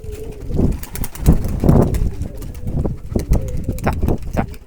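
Twelve pigeons coo in low, repeated throaty bursts while being trained, with a man calling to them over the birds and some wind.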